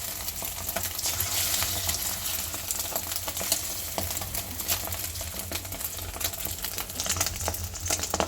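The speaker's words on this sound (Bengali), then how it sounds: "ডিম ভাজা দেখতে কি ভালো লাগে বলো ডিম ভাজতেও বেশ ভালো লাগে" Eggs frying in a pan, a loud, dense and continuous crackling sizzle with rapid spitting pops throughout, close up, with no voices.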